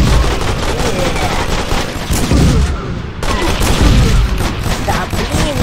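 A machine gun fires in the zombie shooter game ZIC: Zombies In City, with dense, loud, rapid bursts that pause briefly midway and then resume, while a voice talks faintly underneath.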